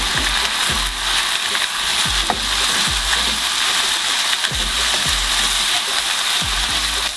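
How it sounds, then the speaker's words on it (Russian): Meat and onion stew in a pan with a steady loud sizzle and bubbling, broken by repeated scrapes and stirring knocks about every second, the frying constant throughout. "И вместе с луком еще минуты 3 протушим уже мясо."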